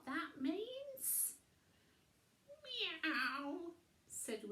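Cat-like meows voiced for Wilbur the cat in a bedtime story: two drawn-out, rising-and-falling mews with a short hiss-like breath between, close and clear, likely a person imitating the cat.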